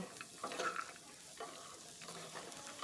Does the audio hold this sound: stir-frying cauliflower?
yes